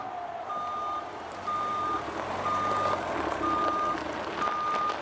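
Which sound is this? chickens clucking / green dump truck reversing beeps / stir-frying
green dump truck reversing beeps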